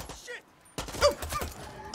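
A sudden burst of rapid gunfire from the video game Far Cry 6 erupts after a moment of near quiet, loud, close shots crackling in quick succession, fired while riding a horse.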